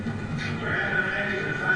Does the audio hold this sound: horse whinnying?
yes